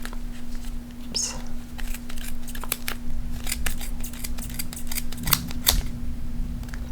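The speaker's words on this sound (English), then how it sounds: "Now we're going to take our scissors, and right where you see where it's split here in the middle, you trim it." Scissors snip through yarn wound on a Clover pom pom maker, a string of sharp close cuts in quick irregular succession over a steady background hum.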